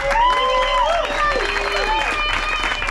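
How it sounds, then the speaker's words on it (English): A live audience at a stage game show claps and whoops in a loud, steady burst of applause, with rising and falling cheers over the clapping for about three seconds. "let's give a big round of applause to Dee."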